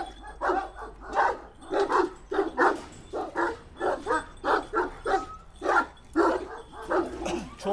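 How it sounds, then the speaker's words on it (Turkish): A dog barks repeatedly in a steady run of sharp, loud, close barks, a dozen or more evenly spaced, with no talk over them. "çok fazla havlam oldu."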